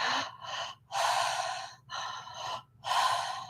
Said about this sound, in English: you can breathe just in and out through your mouth